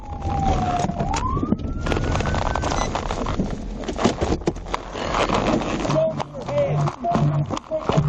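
A wailing ambulance siren rises and sweeps, mixed with traffic noise and voices talking, followed by shorter siren yelps later on.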